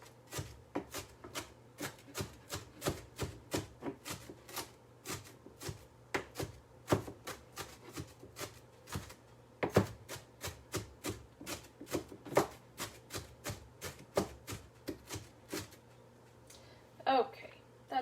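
An onion is chopped on a cutting board in a steady, rapid run of close knife strikes, with a brief pause near the middle and a hum underneath.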